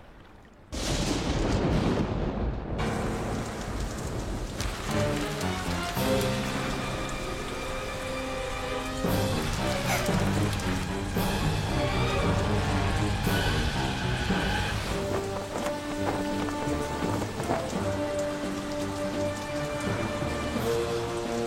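Cartoon rain falls in a steady patter with occasional rumbles like distant thunder, layered under a melodic music score after a short quiet opening, no voices.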